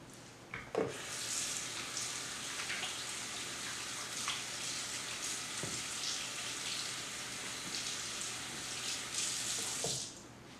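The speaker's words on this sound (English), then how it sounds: "so I'm going to wash my hands" Hands being washed under a running kitchen tap, a steady bright rush of water lasting about ten seconds, with a few soft knocks and splashes as the hands move through the stream.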